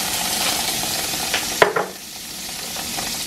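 Butter sizzling in a pan alongside salmon and asparagus, a continuous close crackle broken by a sharp utensil clank midway, after which the frying continues more softly.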